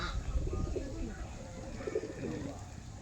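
Pigeons cooing in a loft of about thirty birds, soft repeated throaty coos over a steady murmur of birds nearby, with faint speech in the background.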